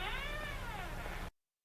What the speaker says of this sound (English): Cat shows up.